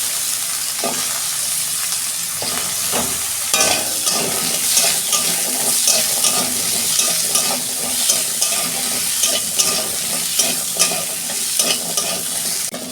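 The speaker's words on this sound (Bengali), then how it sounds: "কুমড়ো আর লাল আলুটা আমি একটু ভেজে নিচ্ছি 2 মিনিট।" Pumpkin and red potato pieces fry in a little oil in a wok, giving a steady, loud sizzle with frequent stirring scrapes and clinks throughout, close up and with no talking.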